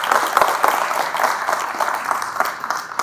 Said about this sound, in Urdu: آپ کو میں گزارش کروں گا کہ بھرپور تالیاں بجائیں